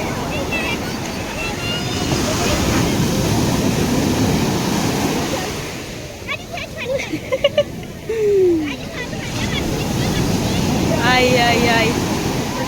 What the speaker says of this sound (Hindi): लहरें देखो कितनी ऊंची आ रही है